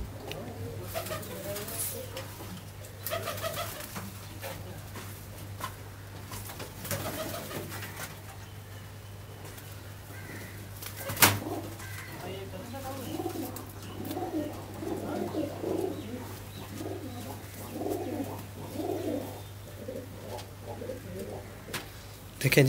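Pet pigeons of a breeding pair, kept by a fancier, coo softly in repeated low throaty phrases against a steady low hum, with a brief sharp click midway.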